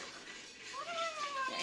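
A cat gives a single short, rising meow indoors in a home setting, moderately close and fairly quiet against a soft background.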